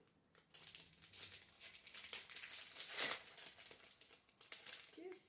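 Soft gift package wrapped in crinkly paper being unwrapped, with repeated close crumpling and crinkling rustles and a brief tearing, a light voice murmuring faintly underneath.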